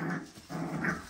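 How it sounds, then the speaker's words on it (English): An XL pit bull puppy growls during play, a short, low, rumbling growl in two close bursts with a brief dip between them. "You're such a cute little XL pit bull puppy."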